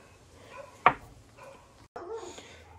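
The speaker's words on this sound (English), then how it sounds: "as all the dogs are barking" Dogs bark during work at a bench making an awl from an old screwdriver, one sharp loud bark then fainter muffled barking, with no talk over it.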